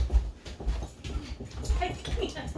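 A dog that has got into something whimpers and fusses indoors, short uneven whines and snuffling noises mixed with household commotion and people talking nearby.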